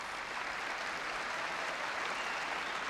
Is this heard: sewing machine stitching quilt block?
no